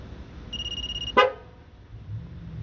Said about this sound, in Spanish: Hizo ahí el sonido a la bocina del claxon.